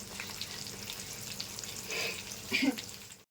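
Chillies and curry leaves fry in hot oil with a steady, close sizzle and hiss that swells briefly near the end, and a voice speaks softly underneath.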